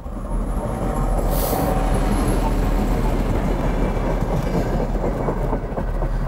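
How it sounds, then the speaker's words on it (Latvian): A train rolls past close by in a steady, heavy roar of wheels and rail rumble with faint clattering and a brief high squeal, continuous and loud throughout. "Vilciens nāk."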